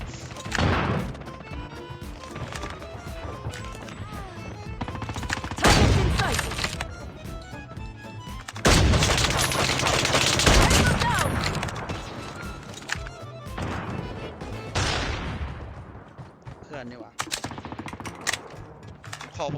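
Rapid bursts of gunfire from the mobile shooter game Call of Duty Mobile, including an SP-R 208 rifle, with loud sustained volleys and shorter shots over game effects and a voice talking.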